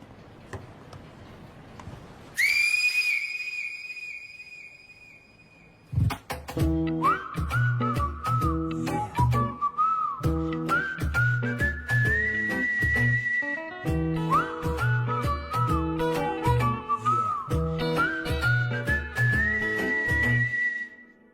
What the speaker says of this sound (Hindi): हाफ टाइम में सीटी बजा लेना